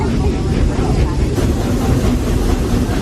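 A restored real steam train on the Walt Disney World Railroad at Magic Kingdom rumbles steadily nearby, a dense low chugging and rolling noise filling the clip throughout.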